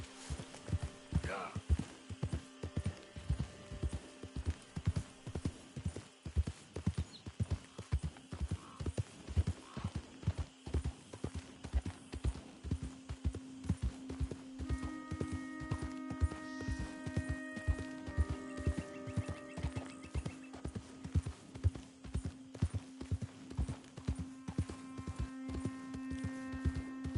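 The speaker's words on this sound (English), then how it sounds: "That horse looks like a fine traveling companion." Horse hooves clip-clop in Red Dead Redemption 2, a steady rhythmic walking gait of regular close thuds lasting throughout, with a low hum and faint game music tones underneath.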